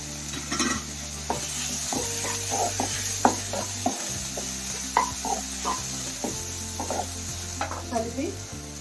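Chopped tomatoes for a mutton curry fry and sizzle in a pan while a spoon stirs them in repeated scraping strokes. The sound is steady, close and moderately loud, with a low hum underneath and no talking.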